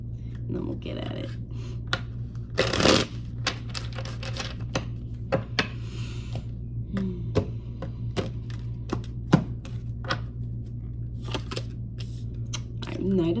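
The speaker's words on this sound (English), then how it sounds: "Alright, we'll do one more shuffle, and then we'll get at it." A deck of tarot cards is shuffled by hand close by, producing a run of quick papery riffles and sharp taps over a steady low hum.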